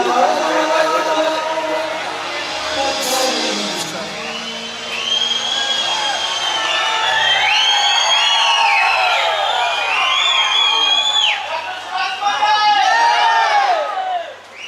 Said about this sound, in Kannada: ತುಂಬ ಕ್ರೌಡ್ ಇದೆ ಇಲ್ಲಿ.